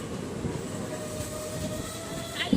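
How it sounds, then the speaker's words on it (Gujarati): A train rolls into Runija station, a steady rumbling rail drone with a faint sustained wheel squeal and a brief metallic clunk near the end, heard nearby without talk. "ગાડી સ્ટેશનમાં આવી ગઈ છે."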